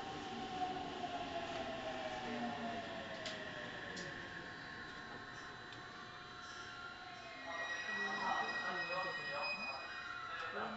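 A local train departs a station bound for Nagoya, pulling away with a low, steady rumble and electric hum, faint clicks in the background, growing a little louder near the end.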